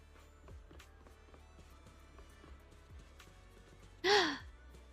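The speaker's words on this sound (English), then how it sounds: "I'm just sorry that I'm yawning so much." A single drawn-out yawn rises loud and close near the end, breathy with a falling vocal tone, after a stretch of quiet background with faint soft thumps.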